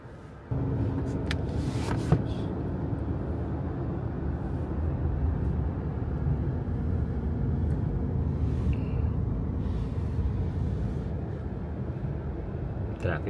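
Road traffic in Las Vegas heard from inside a car, a steady low engine and road rumble with faint passing noises, starting after a quiet moment.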